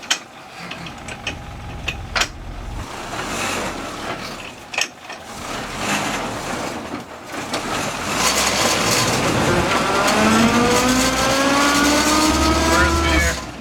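A 1963 Land Rover Series 2a drives around the block with a loud, close engine drone and mechanical whine, gears rattling, and the revs rising in a climbing tone toward the end.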